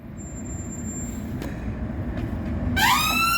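An ambulance siren passes during a repair job on a Vauxhall Vivaro van. A rising wail breaks in loudly near the end over a steady low hum, after a thin high tone and a few faint knocks.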